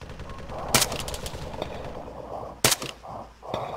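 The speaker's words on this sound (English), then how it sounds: "Oh my god, I'm taking shots." Gunfire in the military shooter Arma 3, two sharp loud cracks about two seconds apart with a few fainter pops in between, over steady background noise.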